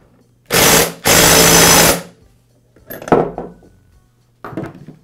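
An impact wrench installing the clutch on a Poulan chainsaw fires two loud, close bursts of buzzing hammering, the second longer at about a second, followed by clattering tool handling and a final short rattle.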